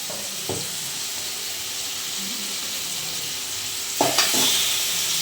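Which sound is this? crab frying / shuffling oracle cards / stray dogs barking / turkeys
crab frying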